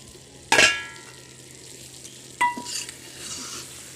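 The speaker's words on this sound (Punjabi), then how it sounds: "ਤੇ ਆਪਾਂ ਇੱਕ ਵਾਰੀ ਕੜਛੀ ਮਾਰ ਦਿੰਨੇ ਆ ਵਿੱਚ" Squash and onion sabzi being stirred with a ladle in a pan, heard as two distinct scrapes and knocks of metal on the pan over a quiet low hum, close and without voices.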